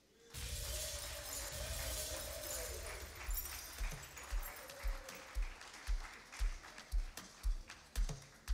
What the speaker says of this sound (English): Put your hands together for CEO Sinefa Taita Ngetich.